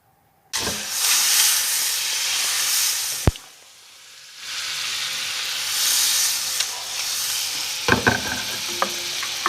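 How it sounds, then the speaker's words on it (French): A good knob of Breton butter melting and sizzling in a high-sided pan over the flame, a loud steady hiss that dips briefly midway, with a sharp knock and light utensil clicks toward the end. "on met dans une poêle à bord assez haut, avec un diamètre équivalent au feu qu'on a en dessous à peu près, un bon morceau de beurre breton qu'on laisse fondre"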